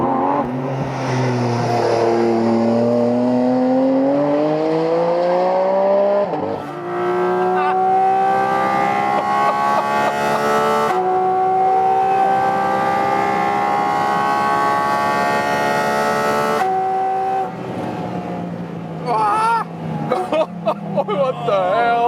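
A 2022 Porsche 718 Cayman GT4 RS at full throttle around 250 km/h, its engine a loud sustained howl that climbs steadily in pitch through gear changes, with brief dips between shifts.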